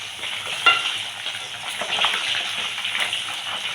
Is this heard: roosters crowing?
no